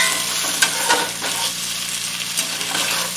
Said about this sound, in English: we'll just keep swishing it around there until it's done